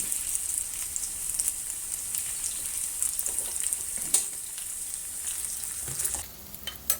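Potatoes pan frying in oil hiss with a bright, steady, rain-like sizzle, dotted with small crackles and one sharp tap, before dropping off near the end.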